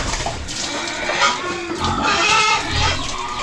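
Pigs grunting and snuffling on a backyard farm, with repeated close, loud grunts and oinks running through the whole stretch amid rustling pen noise.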